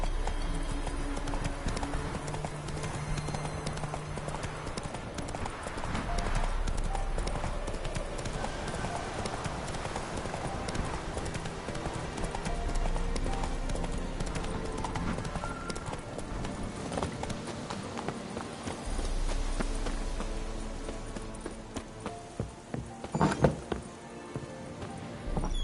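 Roach, Geralt's horse in The Witcher 3, galloping in a game with steady hoof clip-clop over a dense bed of music and ambience, along with occasional thumps.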